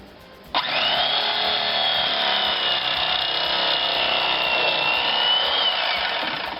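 A bread knife saws through a crusty sourdough honey quinoa loaf, a loud continuous rasping grind starting abruptly and holding steady for several seconds, close up and alone.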